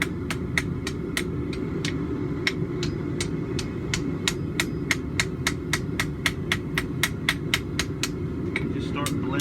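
A ball peen hammer strikes hot forge-welded steel in a steady run of sharp, evenly spaced blows, blending the seams of a back scratcher over a constant low forge roar.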